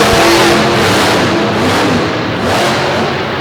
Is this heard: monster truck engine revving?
yes